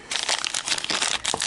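A small plastic bag of vintage jewellery rustles and crinkles as it is handled and opened, a close, continuous crackling with a few sharper crunches near the end.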